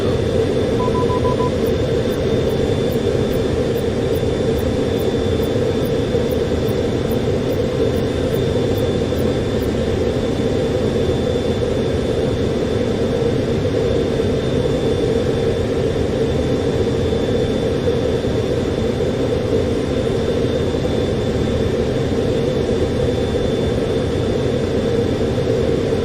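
A jet flies overhead in the Call of Duty Black Ops Cold War reveal, a loud, steady broadband roar with a constant hum that holds unchanged throughout, with no talking.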